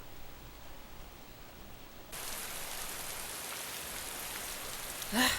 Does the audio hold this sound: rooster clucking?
no